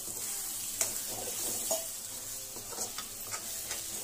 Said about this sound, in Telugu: ఈ పేస్ట్ వేసుకొని ఖచ్చితంగా కలుపుతూ ఉండాలి